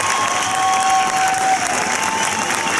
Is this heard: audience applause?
yes